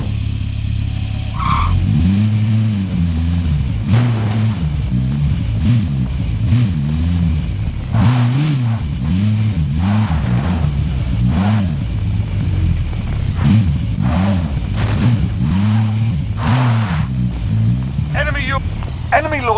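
A car engine in Call of Duty: Warzone revs repeatedly while driving, rising and falling in loud, close surges throughout, with occasional skid-like noise and brief game announcements over it.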